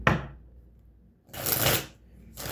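Two bursts of card shuffling, a short riffle at the start and a longer one after a pause, close and fairly loud.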